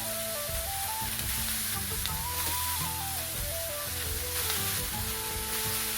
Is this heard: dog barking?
no